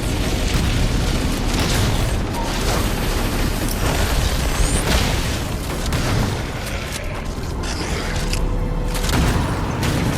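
Explosions of power conduits being destroyed in the Halo video game, a dense, continuous rumble of booms and bursts with mechanical creaks running throughout at steady, loud level.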